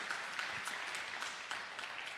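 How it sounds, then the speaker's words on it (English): An audience in a school gym applauding a tennis coach at a fall sports parent meeting, a faint, steady patter of clapping from a modest crowd heard at a distance. "Let's give Coach Gilbert a round of applause."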